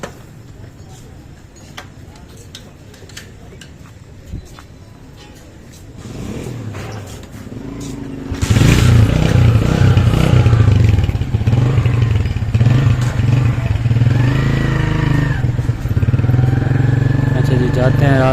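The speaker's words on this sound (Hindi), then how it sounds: "बस बाइक लेके चलते हैं घर" A motorcycle ride home at night through a closed commercial area: faint clatter and passing sounds at first, then the engine starts and a loud steady close rumble continues while people talk.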